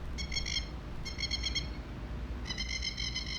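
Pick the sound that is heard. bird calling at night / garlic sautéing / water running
bird calling at night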